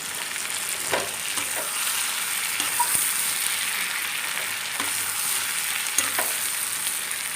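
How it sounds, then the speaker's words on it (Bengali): A curry of jackfruit seeds, potato and pointed gourd frying in a pan over low heat, a steady soft sizzle with occasional scrapes and taps of a spoon stirring it, close and alone. "একটু নেড়ে দেবো"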